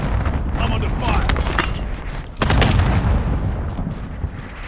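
Gunfire in Call of Duty: Modern Warfare, with several sharp shots clustered mid-clip and a heavier burst after a brief dip, over busy battle noise and talk from players.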